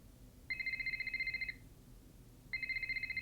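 A telephone in the Nancy Drew game The Deadly Device rings twice with a bright electronic trill. Each ring lasts about a second, separated by a pause, and plays clearly over a quiet background.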